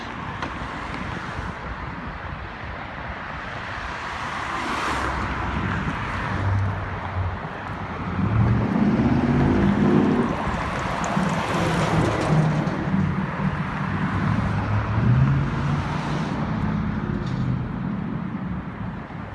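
A 52A city bus passes amid steady traffic on Bathurst Street in Toronto, with a rising engine rumble and road roar that swells mid-clip and then settles into continuous passing vehicles under outdoor wind noise, with no talking.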